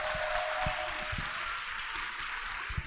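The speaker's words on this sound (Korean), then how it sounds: "이분들에게 박수 한번 부탁드립니다." Audience clapping at a seminar, a continuous dense wash of hands from a large crowd, steady and fairly loud for the whole stretch, no speech.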